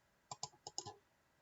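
A quick run of five light mouse clicks, close and crisp, spaced unevenly over about half a second, then quiet.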